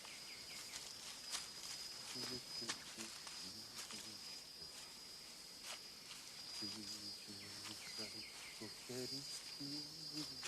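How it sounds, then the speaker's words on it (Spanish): A cicada sings in a replanted forest, a continuous high buzzing drone with someone speaking quietly over it. "Aquí vemos la cigarra que canta hasta que muere."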